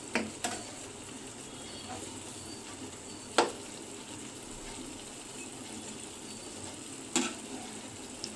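Spicy chilli chicken fries on a flat tava griddle with a low, continuous sizzle, broken by a few sharp clinks and scrapes as the pieces are turned over.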